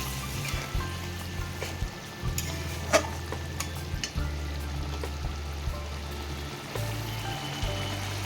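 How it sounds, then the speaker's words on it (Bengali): Fish pieces bubble and sizzle in a pan of fried spice masala, a soft steady crackle with a low hum and a few clinks, and no voices. "মশলাটা কষিয়ে মাছগুলো দিয়ে দিয়েছি। একটু ভালো করে ফুটে উঠলে একটুখানি গরম মশলা দিয়ে নামিয়ে দেবো।"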